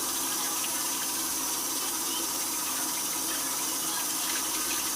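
Tap water pours steadily into a kitchen sink while food is rubbed clean under the stream. The gushing is loud and unbroken throughout, close by, with no voices.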